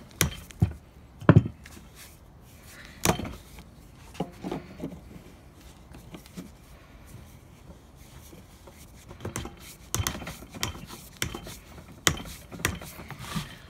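A threaded part is forced into a cross-threaded hole of a bait launcher, re-tapping the damaged threads, giving sparse close clicks, creaks and scraping knocks in irregular bursts against a quiet background.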